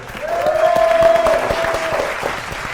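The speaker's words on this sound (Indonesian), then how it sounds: "Oke, tepuk tangan sekali lagi." A studio audience at a quiz show claps for a team, a short burst of applause that swells and fades over a few seconds, with a faint tone in the background.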